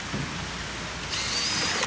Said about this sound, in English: then you drill a pilot hole